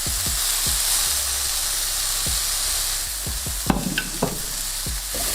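Beef patty for a homemade Big Mac frying in a hot pan, a steady close sizzle running throughout with a few sharp clicks and scrapes of a utensil against the pan.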